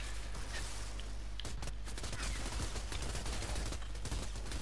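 Sustained gunfire from the video game Outriders, rapid bursts of shots over a constant rumbling game soundscape, loud and continuous without speech.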